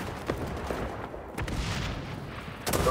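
A grenade explosion and gunfire in the XDefiant video game, with a rumbling blast and scattered sharp gunshots, all moderately loud and dense, in a short burst of combat with no voices.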